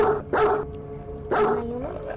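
A dog barks inside a house in a horror video game, two pairs of sharp close barks followed by a rising whine.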